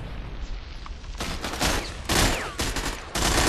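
Gunfire in the online shooter Ghost Recon Phantoms: several loud, dense bursts of rapid shots, each lasting a fraction of a second, with short gaps between volleys and a steady ambient bed underneath.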